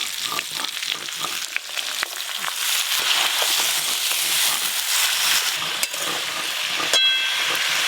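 Pumpkin leaves fry in a pan for a village-style Bengali dish, giving a steady hissing sizzle with occasional sharp crackles and stirring scrapes, close and alone without talk.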